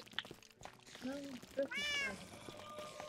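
A house cat meows once, rising and high-pitched, with a few shorter, softer vocal sounds around it; a voice talks quietly in the background.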